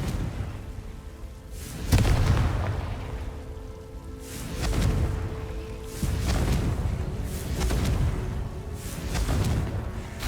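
Confringo fire spells in Hogwarts Legacy, heard as a series of booming blasts with whooshing tails about every two seconds, rolling and fairly loud amid ambient game sound.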